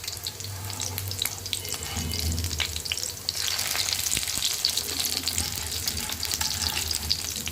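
Shami kabab made from salted dried meat and bound with egg sizzles steadily in a pan after being flipped. The frying hiss is loud and close, with brief stirring or shifting noises and no talking.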